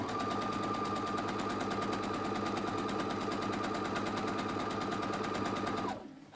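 Steady, rapid mechanical chatter from a sewing machine top stitching a tabbed cushion runs close and loud for about six seconds before winding down and stopping.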